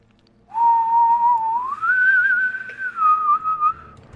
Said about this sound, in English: low whistle.